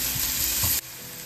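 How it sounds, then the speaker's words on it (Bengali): Grated garlic and onion fry in a pan with a loud, close sizzle and a couple of stirring scrapes before the sound cuts off abruptly. "এটাকে আবার একটু ভাজা করব"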